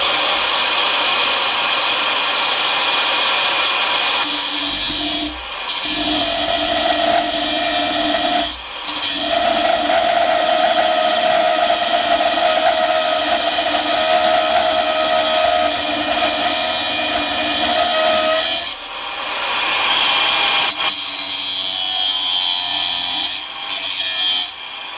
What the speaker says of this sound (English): So we're just going to take the hand grinder and give it a little hand finish.